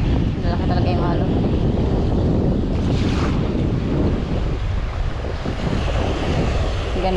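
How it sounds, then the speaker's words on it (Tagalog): Big ocean waves break and surge against the shore at a fishing spot, a loud, continuous wash mixed with heavy wind buffeting, with a voice briefly audible. "Lalaki talaga yung alon."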